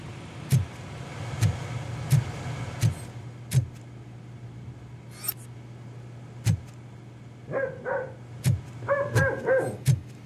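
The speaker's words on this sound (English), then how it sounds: "Shut that dog up!" In a Robocop video game, a dog barks repeatedly in sharp single barks at uneven intervals over a steady low engine-like hum, with a few yips near the end.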